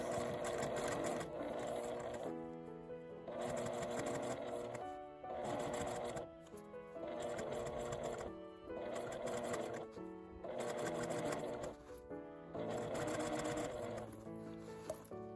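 A sewing machine stitches the curved edge of an L-zip leather wallet in short rattling bursts of a few seconds each, separated by brief pauses as the fabric is adjusted, close and steady.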